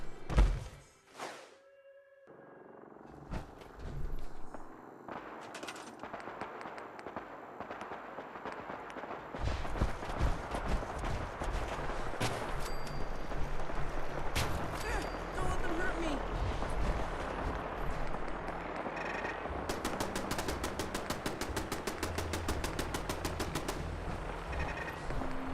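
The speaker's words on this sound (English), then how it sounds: "Listen to how long those turrets actually shoot." Gun turrets firing in the video game Fallout: America Rising 2, a dense, sustained burst of loud rapid shots that runs without a break, with the player talking over it.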